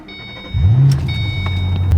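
A Ford Mustang GT500 started with an ignition key: a brief starter crank, then the engine catches with a loud, close rising rev that settles into a steady, throaty idle.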